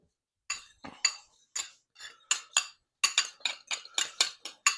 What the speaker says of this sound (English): We're going to mix it, get it well incorporated, homogeneous.